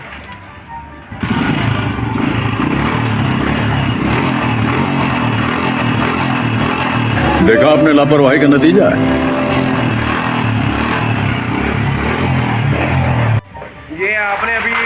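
A Honda CG125 motorcycle engine catching after a kick start, idling steadily and loudly up close with a rough, slightly uneven note and brief revs, while someone talks over it.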